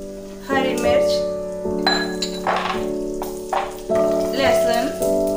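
Cumin, green chilli, garlic and coconut roasting in half a teaspoon of hot oil in a pan, a close crackling sizzle broken by a few utensil knocks and scrapes, with a steady tonal hum running underneath.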